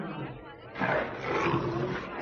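A lion's roar from a 1941 film soundtrack rises loud and rough over a noisy old recording, swelling midway and holding to the end, with dialogue voices around it.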